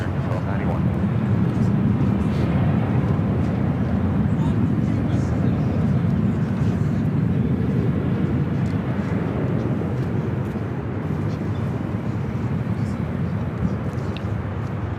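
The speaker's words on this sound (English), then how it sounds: "2421 taking off to Oakland on the 737-800" Southwest Airlines Boeing 737-800 departing for Oakland, its jet engines making a steady, loud, continuous low roar that holds throughout, with voices faintly present beneath it.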